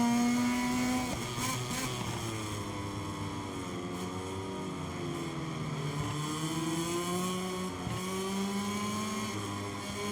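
Motorcycles racing at Motegi in the MotoGP 23 video game, a continuous high engine whine shifting in pitch through gear changes and corners, with several bikes layered together, no commentary.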